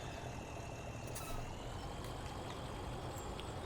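A tractor engine in Farming Simulator 2017 runs with a steady, dense rumble and continuous broadband noise, holding a constant level throughout with a brief burst of hiss partway through.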